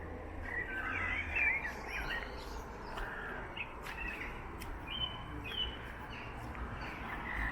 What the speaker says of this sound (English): You heard the birds?